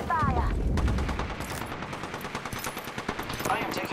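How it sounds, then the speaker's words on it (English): Rapid automatic gunfire in the battle royale video game Apex Legends, loud bursts of closely spaced shots running through most of the moment with game effects layered over it. "I am taking fire, friends."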